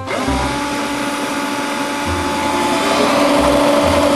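An electric screwdriver whines steadily and loud throughout, its motor hum continuous with slight low-end bursts as it loads up, no talking over it.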